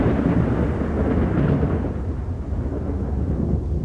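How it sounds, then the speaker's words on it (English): Low rumbling thunder rolls through the S.T.A.L.K.E.R.: Shadow of Chernobyl game world, a continuous deep, loud rumble with no voices. "Very low rumbling thunder."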